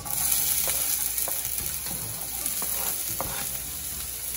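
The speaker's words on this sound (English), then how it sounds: "I'm going to go ahead and add my onions to this oil" Chopped onions sizzle steadily in hot olive oil in a pan on a stove for a Haitian cod fish patty filling, a dense close crackle with a few soft stirring clicks and no talk.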